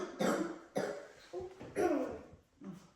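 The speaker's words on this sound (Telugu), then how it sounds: "కాఫ్ చేస్తూనే ఉంది" A child coughs in several short, separate bursts, close and fairly quiet, with brief gaps between the fits.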